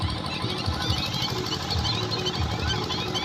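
A farm tractor's engine drones steadily throughout at a moderate distance, rumbling with a low, chugging pulse and no voices.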